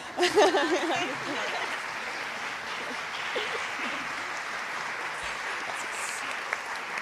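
Audience applause during a coffee-break announcement at a world forum on low-carbon cities, a steady dense clapping that holds for several seconds, with a brief voice near the start.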